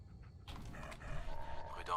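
A dog companion in the video game Fallout 4 gives short barks and yips, heard faintly beneath someone talking.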